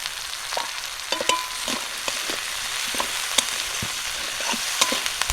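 Chopped onion and garlic fry in a pan for aloo ghati, with a steady close sizzle broken by sharp spatula taps and scrapes against the pan at irregular intervals.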